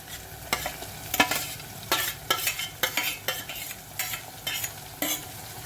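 Tomato stirred into browned onions with garlic-chili paste in a hot pan for a dahi papad sabji, with a soft sizzle under irregular clattering spoon scrapes.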